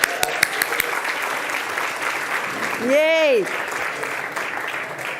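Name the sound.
audience applause at a conference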